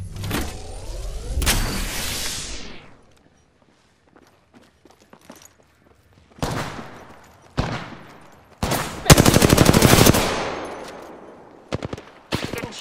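Gunfire in a video game, with sharp bursts of shots and short rapid volleys separated by quiet gaps, loud and close, plus smaller clicks and impacts between them.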